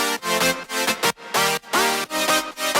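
Layered saw-wave chord stabs built in Sylenth1 with several unison voices, a bright buzzy synth playing choppy rhythmic chords in short bursts with brief gaps, loud and close, no voices.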